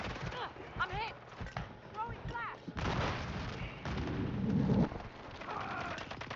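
Gunfire in Call of Duty Warzone crackles in quick bursts and single shots throughout, mixed with game effects and heard under players talking.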